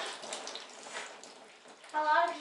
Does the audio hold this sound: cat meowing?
no